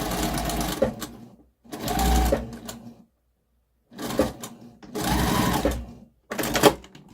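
A sewing machine stitches a 3/8 inch seam on a zippered pouch lining in five close, rapid bursts of mechanical whirring, separated by short pauses.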